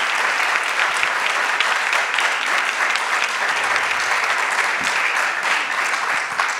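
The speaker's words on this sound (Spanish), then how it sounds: "luego de este aplauso" An audience at a panel discussion on journalism applauding, dense sustained clapping from a crowd throughout, close and loud.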